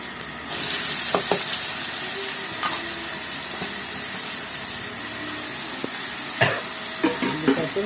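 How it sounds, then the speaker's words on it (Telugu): Ridge gourd pieces hit hot oil in a pan, setting off a loud, steady hissing sizzle that keeps going throughout, with scattered clinks and scraping stirs on top and no talking. "ఇప్పుడు బీరకాయ వేసేసుకుంటున్నాను నేను"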